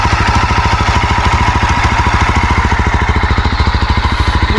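A Yezdi motorcycle engine runs steadily close by, its loud, even thumping pulse repeating rapidly and without pause throughout, with no talking over it.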